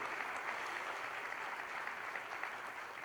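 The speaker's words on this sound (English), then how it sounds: "We can clap." An audience applauds award nominees and winners at a school district celebration, producing a steady, even wash of many hands clapping at moderate distance throughout, with no voices over it.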